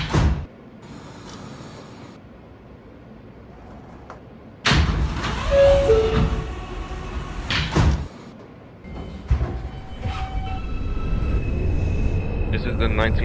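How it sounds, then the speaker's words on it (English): Doors closing on an NYC subway R160A train in the OpenBVE simulator: a loud thud and burst of noise, then a brief two-tone chime and a second thump, over a steady low rumble. "Stand clear of the closing doors"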